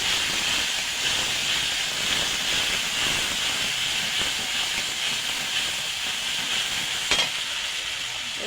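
A ground paste of black mustard, cumin and green chilli fries in a pan for a raw-tomato fish curry. The sizzle is a steady, bright hiss throughout, with one brief clatter near the end.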